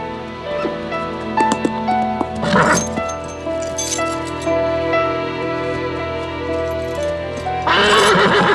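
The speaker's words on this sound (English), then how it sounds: "His horse is all foamy." A horse that has just galloped over, lathered with foam, lets out several loud whinnies and neighs, with hoof clatter and a bright clink in between, close by and without speech.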